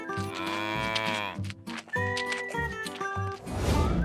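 Cartoon cows of a farm animal family calling out in several drawn, pitched moos and bleat-like cries over a busy musical backing, with a brief pause midway and a denser noisy burst at the end.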